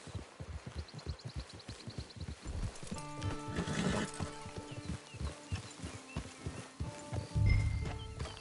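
Horse in a cowboy video game, rhythmic clip-clop of hooves at a steady pace followed by a whinny, with music and a voice underneath.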